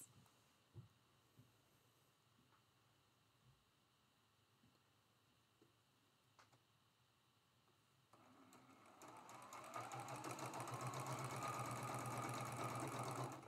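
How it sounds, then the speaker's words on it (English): A sewing machine stitches quarter-inch seams on a quilt block. Faint clicks and handling come first, then the motor starts and hums steadily and close for several seconds. "I'm going to sew these two seams with a quarter inch seam allowance."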